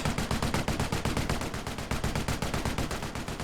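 A .30 caliber machine gun in the World War II strategy game Company of Heroes 1 fires a long, rapid, steady stream of rounds, evenly spaced and continuous, heard without talk.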